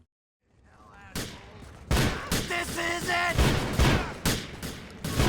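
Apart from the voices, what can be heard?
gunfire in video game GTA IV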